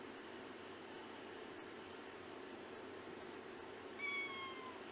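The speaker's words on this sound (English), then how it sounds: "That's my cat crying." A house cat gives a short, faint meow near the end, heard over a steady hiss of room noise.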